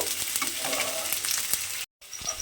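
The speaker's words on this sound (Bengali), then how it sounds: "সেইভাবে কিন্তু পেঁয়াজটা আমি এখানে ভেজে নেব।" Onions frying in a pan for a masoor dal recipe, a steady broadband sizzle with light stirring scrapes, cutting out briefly near the end before resuming.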